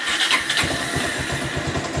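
A Bajaj Rouser motorcycle engine with a mistimed scissor gear runs close by, a steady mid-pitched idle with a regular pulsing throb from heavy vibration, no talk over it.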